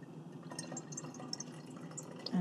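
Cold pressed coffee is poured into a container, giving a soft, close trickle with small splashes and drips that thicken slightly at the end; nobody talks.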